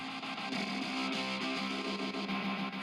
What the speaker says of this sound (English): Something extreme like remix reverb